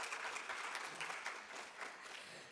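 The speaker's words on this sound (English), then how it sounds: "give our panel members a round of applause." Applause at a leadership talk for a panel of speakers, a crowd clapping in a steady, fairly faint wash from start to finish.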